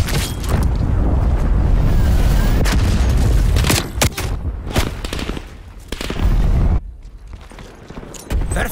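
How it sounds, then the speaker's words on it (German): A grenade goes off amid a Black Ops Cold War multiplayer firefight, heavy booms and rapid gunfire bursts crowding together loudly, with brief lulls between volleys. "Granate ist raus."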